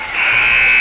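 An electronic buzzer sounds in a high school varsity boys basketball gym at the end of a quarter, a loud sustained harsh tone rising in within a fraction of a second and holding steady.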